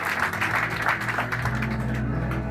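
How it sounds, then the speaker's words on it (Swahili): A crowd applauds steadily for a couple of seconds, a dense, fairly loud wash of clapping with no break. "Makofi."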